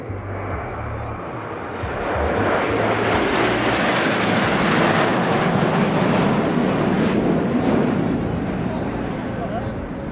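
Patrouille de France jets fly past in chevron formation at the La Ferté-Alais airshow, a loud, sustained broadband roar that swells and holds across the clip, with a commentator talking over it.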